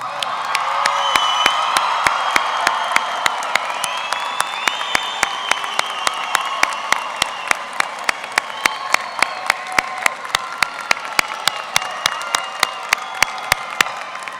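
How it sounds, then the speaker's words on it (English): A large crowd of parents and guests at a high school graduation ceremony applauds the graduates, dense clapping with cheers and whoops at first, thinning into scattered individual claps toward the end. "give them a round of applause"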